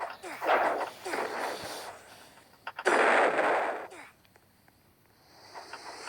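Several heavy ship cannon blasts boom at uneven intervals in a Roblox video game naval battle, each trailing into a hissing rumble, with the loudest burst midway before things quiet down.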